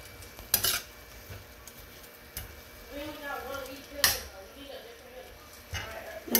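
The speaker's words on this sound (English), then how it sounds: "I'm gonna just keep stirring it" Utensil scraping and clinking against a pan as sweet potato leaves are stirred, with soft irregular knocks and faint sizzle, sharp metallic clacks standing out near the start and middle, while a voice talks over the stirring.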